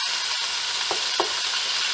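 Hot oil sizzles steadily in a Teflon pan, a continuous bright hiss with two short scraping strokes from a cooking spoon partway through; close and fairly loud, no talking.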